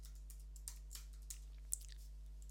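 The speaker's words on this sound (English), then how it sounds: "let's just type in my username and password." Typing on a computer keyboard while entering a username and password, heard as a few sparse, quiet key clicks over a steady low hum, with no talking.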